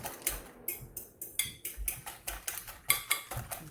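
Chopped onions, green onions and green and orange peppers are mixed in a bowl with a utensil, giving a steady run of quick, close clinks and scrapes in a regular stirring rhythm with no talking.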